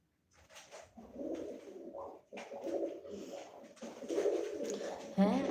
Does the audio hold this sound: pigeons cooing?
yes